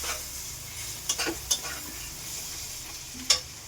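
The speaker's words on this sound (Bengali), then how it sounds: "দেখুন, এই কাশ্মীরি চিলি দিচ্ছি, কাশ্মীরি লঙ্কা গুঁড়ো দিয়ে দিলাম" Meat masala frying with Kashmiri chili powder for chicken dum biryani, a steady close sizzle with a few sharp scrapes of a spoon stirring the pan, no voices.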